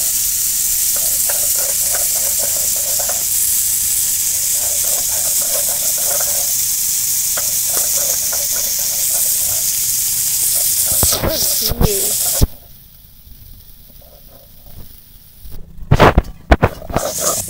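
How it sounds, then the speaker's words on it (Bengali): Crabs frying in ghee in a pan give a loud, close, continuous sizzle with stirring scrapes, then a few sharp clatters and a quieter stretch before more clanks near the end. "কাঁকড়াগুলো একটু ভাজবো এইভাবে।"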